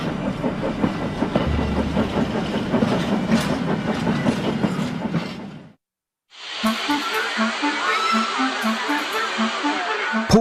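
A train rolls past on the rails with a loud, dense rumble, cuts out briefly, then returns with rhythmic clickety-clack of wheels over rail joints.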